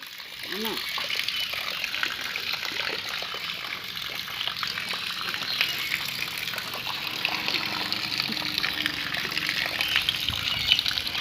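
Steady rushing, splashing water runs throughout, a continuous close gush with a brief voice-like tone near the start.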